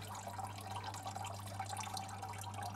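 Water trickles steadily down a small built-in waterfall inside a terrarium, a continuous soft splashing and dripping held close, with a low steady hum running beneath it.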